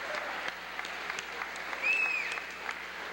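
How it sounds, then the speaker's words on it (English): An audience claps at a 1992 club event, a steady patter of applause that sounds fairly distant and modest in volume, with a brief whistle-like tone rising partway through. "How about a big round of applause for Ed McLaughlin?"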